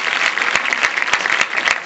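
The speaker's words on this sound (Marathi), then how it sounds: "त्याचं आगमन झालं त्यासाठी जोरदार टाळ्या." An audience breaks into loud, sustained applause to welcome a poet at a Marathi gathering, a dense continuous roar of many hands clapping with a few sharper claps standing out, no speech.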